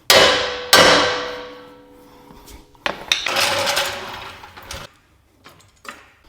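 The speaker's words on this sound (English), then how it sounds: "if we take a hammer and hit right here on the knuckle, that should shock the ball joint and break it loose" Two sharp metallic clangs ring out as a hammer strikes the steering knuckle of a 2024 GMC 2500 to break the ball joint loose, followed by clattering and shifting metal noises.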